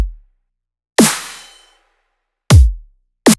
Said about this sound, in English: On the verse, I have of course the kick and the snare